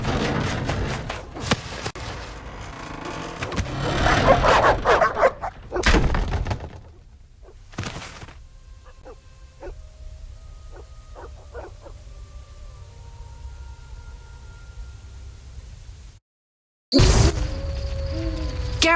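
Dogs in The Witcher video game bark and lunge in an attack: a loud, chaotic burst of snarls, thuds and slams over the first few seconds, followed by quieter game ambience with scattered tones and a brief drop to silence.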